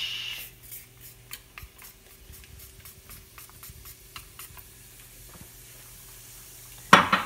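Garlic going into hot canola oil in a pan, with soft sizzling and a run of light scraping, tapping stirs, ending in a sharp clatter; no one talks.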